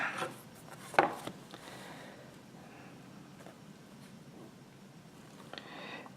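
A strip of blue fabric is cut, heard as a sharp snip followed by soft, close rubbing and scraping of blade and cloth at low volume, with no voices.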